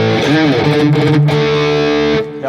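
A distorted electric guitar played through a Fractal FM9 modeling an EVH 5153 Stealth amp, sustained heavily saturated chords ringing loud and close with gritty harsh highs, alone without talk.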